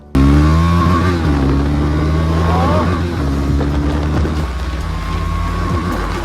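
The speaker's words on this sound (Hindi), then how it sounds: "सो फाइनल बाइक देख लो 390 कैसा लग रहा है भाई।" A KTM Duke 390 motorcycle engine runs steadily and loudly up close, with a deep idle rumble and a few throttle blips.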